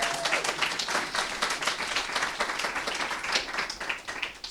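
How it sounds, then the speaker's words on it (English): Steady applause and clapping from an audience at a Seattle International Workers' Day worker rights outreach event, dense and sustained throughout. "So let's give the workers a round of applause."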